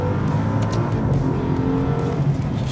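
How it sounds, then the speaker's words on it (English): Maserati Ghibli Trofeo 2021 with its Ferrari-built V8 starting up, a steady deep rumbling engine note with gravelly texture, close and loud throughout with no talk. "it doesn't sound like a mass-produced V8 when it starts up"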